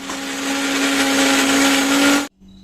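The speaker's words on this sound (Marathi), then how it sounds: "आपण मिक्सरच्या भांड्यात घेऊन बारीक करून घेऊ" A mixer grinder grinding chillies whirs loudly and steadily for about two seconds, then cuts off abruptly, leaving a faint hum.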